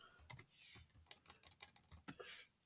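Quick, irregular clatter of keystrokes on a computer keyboard, close and fairly quiet, a rapid burst of clicks lasting a couple of seconds with no talking.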